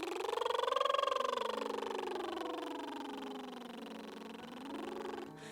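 A voice hums through puffed, trilling lips, the buzzing tone gliding up and down like a siren in a warm-up exercise, steady and close for several seconds.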